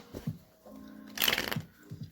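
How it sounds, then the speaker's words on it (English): A deck of tarot cards being shuffled gives a short, dense riffling burst in the middle, with soft handling noises before and after. "You want me to shuffle this real quick and see what comes out"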